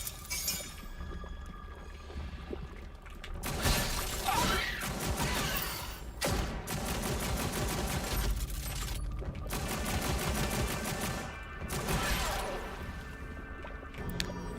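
Rapid video game gunfire crackles in dense bursts and sustained volleys, loud and close, separated by a few short gaps, with crashing and shattering impacts mixed in.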